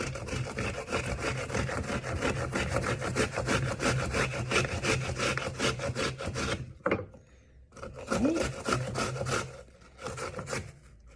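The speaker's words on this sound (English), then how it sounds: "Sometimes it's hard to grate through the skin of the apple" An apple is scraped against a kitchen grater in quick, even rasping strokes, close and loud, with a brief pause near the end before the grating resumes.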